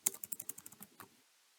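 Quick burst of roughly a dozen crisp keystrokes on a computer keyboard, close and fairly quiet, ending after about a second with no talking.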